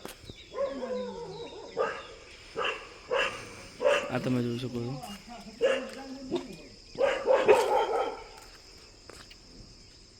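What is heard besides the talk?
dog barking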